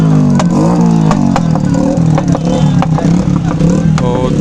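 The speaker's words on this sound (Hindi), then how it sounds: "ये मोटरसाइकिल वाली रैली है।" Motorcycle engines rev and drone loudly at an outdoor political rally, with rising and falling pitch, honks and overlapping crowd voices throughout.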